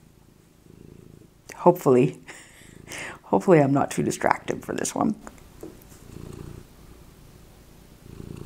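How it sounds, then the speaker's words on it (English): Soft, steady cat purring rumbles close by, running under a person's speech and continuing alone afterward. "You can probably hear her purring."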